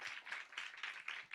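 A church congregation claps briefly and faintly in quick uneven bursts to welcome a visiting ministry team, with no voices over it.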